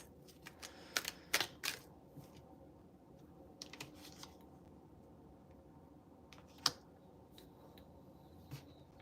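Tarot cards being drawn from a deck give a scatter of crisp, close taps and flicks, clustered near the start and then sparse, over a quiet, hushed room.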